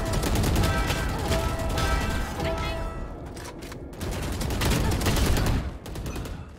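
Loud automatic gunfire in the shooter game Valorant rattles in fast sustained bursts with brief pauses, close and dominant throughout.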